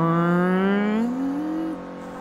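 A Toyota Yaris S's small engine in Forza Motorsport 3 drones steadily, its pitch climbing slowly and straining upward before dropping off, like a weak car revving.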